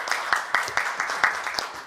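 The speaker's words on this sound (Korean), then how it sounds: "박수로 맞이해 주시기 바랍니다." Audience at a Korean policy forum for small business owners clapping to welcome the moderator, a short burst of sparse, distinct claps close by, unevenly spaced.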